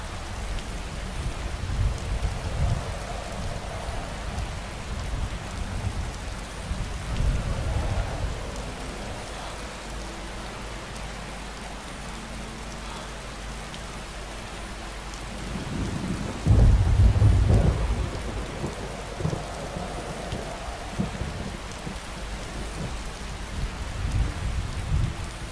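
Heavy rain pours steadily during a thunderstorm in the video game Skyrim, and a loud rumble of thunder rolls in about two-thirds of the way through with no voices.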